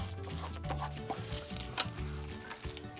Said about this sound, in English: we're just going to go ahead and let this simmer on low so that the flavoring gets into the walnuts as well.